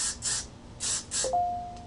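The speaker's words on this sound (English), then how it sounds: "I'm just going to give it a quick spray with my hairspray" Hairspray hisses from an aerosol can in several short bursts onto hair pulled back during curling, close and moderately loud, followed by a faint electronic notification tone.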